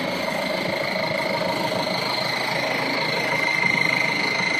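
A rebuilt mud truck with a brand new motor and transmission runs at a steady idle, a loud continuous droning hum with a faint rhythmic pulse that swells slightly near the end.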